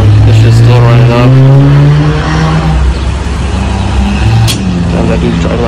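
A car driving fast on a road at sunrise, heard as a loud, close engine drone with shifting tones and a brief squeal near the end; voices may be mixed in.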